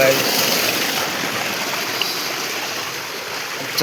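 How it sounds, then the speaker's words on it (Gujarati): Irrigation water gushes steadily into a wheat field, a constant rushing, splashing flow heard close up, fairly loud and even throughout with a brief knock near the end. "ઘઉંમાં આજે પાણી વાળીશું."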